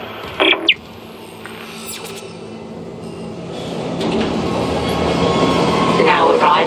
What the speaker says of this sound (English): Calling tram.